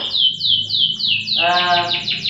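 Canaries in breeding cages sing nearby and loudly, a rapid series of repeated descending chirps joined midway by a buzzy trilled phrase, with no one speaking.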